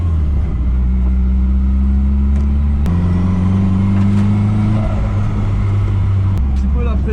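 A Nissan S14 drones steadily at moderate speed through a first, gentle reconnaissance lap of an unfamiliar race circuit. Close, continuous engine noise rises and falls with a few shifts in pitch.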